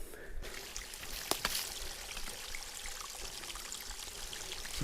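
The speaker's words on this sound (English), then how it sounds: "you got water running right off the top of the hill, down the rocks." Steady running water spilling and trickling down rocks from a hilltop on the Looking Glass Rock Trail, a continuous close wash with a few brighter splashes near the start.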